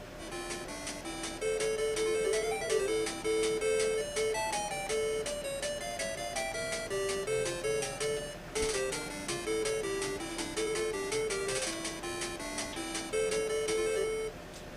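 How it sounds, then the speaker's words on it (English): Bright, bouncy chiptune-style title screen music from the 8-bit game Adventure Island loops over a steady beat, loud and continuous with no voices. "this title screen music is just amazing"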